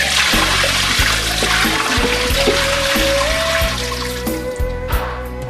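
Tap water runs steadily into a stockpot for beef pho, a continuous rushing flow with clunks and knocks of the pot mixed in, close and fairly loud throughout.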